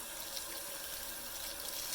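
Steady running tap water pours into a sink while a makeup sponge soaks, a constant close rushing wash with no voices.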